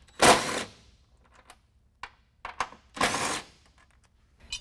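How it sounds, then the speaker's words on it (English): A power tool backs out 12mm bolts from the cab of a 2014 Toyota Tundra during a running board install, sounding as two short, loud bursts with small clicks and clatter in between. "We're going to go ahead and take out these last 2 bolts with the 12mm head."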